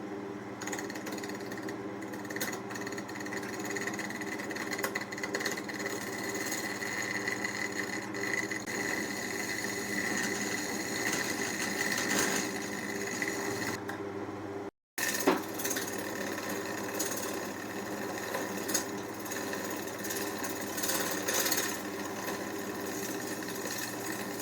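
A wood lathe turns a Milliput ring down to size on a wooden milk churn. It gives a steady, loud mechanical whir with a rough cutting hum, broken by one brief pause about midway before it resumes.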